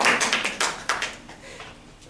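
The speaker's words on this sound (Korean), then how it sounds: "우리 어머님들께 모두 감사합니다 하고 박수 치겠습니다" A church congregation, many of them mothers, applauds together: a burst of dense, bright clapping that peaks early and then thins out, fairly close and without talk.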